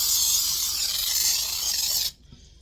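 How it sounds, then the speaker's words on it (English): Cooking spray hisses steadily from a can onto a 9 by 13 inch baking pan for about two seconds, close and fairly loud, then cuts off abruptly into near silence. "I'm going to go ahead and spray my 9 by 13"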